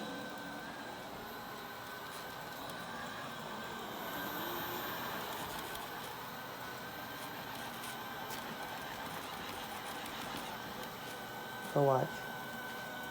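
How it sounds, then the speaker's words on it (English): A Diamond Chanel robot vacuum cleaner runs on its own across an indoor floor near carpet, giving a steady whirring hum throughout. Someone speaks over it, and a short louder clatter comes near the end. "you can just let it go automatically and it will just vacuum"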